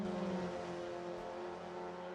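A Mazda MX-5 race car in a racing video game, the one-make MX-5 Supercup at Croft, being whipped left and right through a chicane. Its engine drones steadily and fairly loud throughout, with no talk over it.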